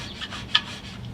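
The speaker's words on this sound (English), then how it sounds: "I'm going to use this really nice knife that my friend gave me, and I'm going to just score that a little bit" A sharp knife scores a shower door sweep seal with soft, faint rubbing strokes and one brief scratchy catch in the middle, with nobody speaking.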